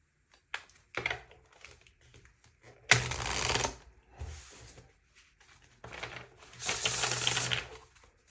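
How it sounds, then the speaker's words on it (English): Crystal oracle cards being hard shuffled by hand, giving bursts of rapid riffling and slapping card noise that come in several separate rounds with short pauses between them, close and clear with no talking. "Let's do a hard shuffle for you guys."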